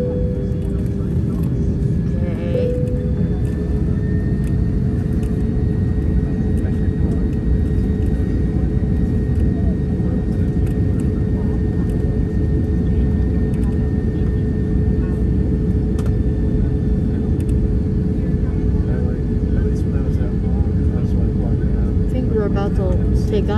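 Airplane engines drone during a flight back to Los Angeles, a loud, constant broadband roar with a faint steady whine on top that holds evenly throughout.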